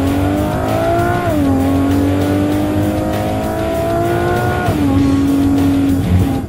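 Sports car engine pulling in first gear, a loud, close, sustained rev whose pitch rises, dips at a shift-like step, then climbs again, with no voices over it.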